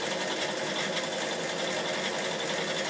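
Bernina 840 sewing machine running a zigzag stitch, a steady close whirring hum with a fast, even needle rhythm and no talking.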